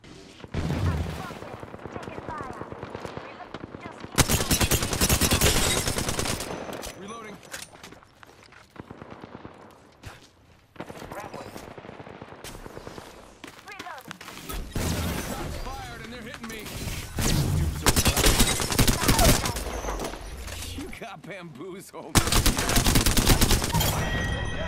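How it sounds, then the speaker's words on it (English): Bursts of automatic gunfire in a video game, loud rattling volleys in several separate stretches with quieter gaps between, while a player talks throughout. "I'm spotted, taking fire."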